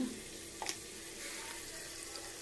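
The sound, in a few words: sautéing dried red chillies and curry leaves in pan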